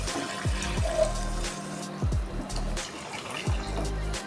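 Water trickling and pouring into a pan of ground curry paste while cooking scrambled egg curry, a steady close liquid stream with a few gulping splashes, no talk.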